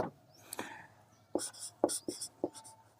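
Pen scratching on paper while a maths solution for a class 10 problem is written out, a series of quiet, close, irregular strokes and taps with short pauses.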